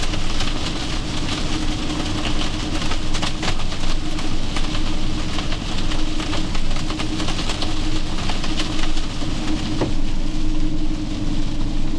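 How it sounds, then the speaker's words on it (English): Hail drums steadily on the roof of a vehicle during a storm, a dense continuous clatter with scattered sharper hits near the microphone and no talk. "Hail."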